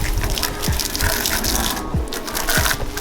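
Water gushes steadily from a twist tap while a bicycle is being cleaned, a loud continuous rushing stream with no voices.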